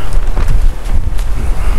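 Strong wind gusts near 80 mph roar across a mountainside at 9,000 feet near Guadalupe Peak, loud buffeting blasts battering the microphone in continuous uneven surges, with no speech.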